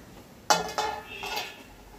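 Vegetables including ivy gourd and a tomato stirred in a cooking pan, a few sharp metallic clinks and scrapes of utensil against pan in quick succession, close and fairly clear, with no talking.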